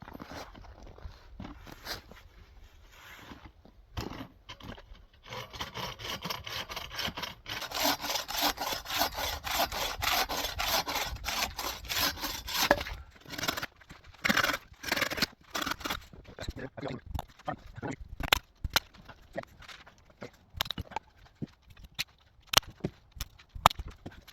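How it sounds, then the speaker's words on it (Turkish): A hand saw cuts firewood in a snowy Canadian forest at minus twenty, rasping strokes with a dense steady run in the middle, then slower scattered strokes and scrapes, with occasional talk. "Hani benzinli testlerden sonra ki en favori testerem."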